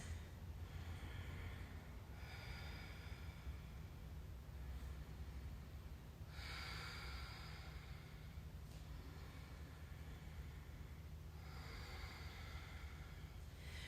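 Slow, deep breaths drawn in and let out during a guided meditation, faint and close, repeating in a few long cycles over a quiet hiss.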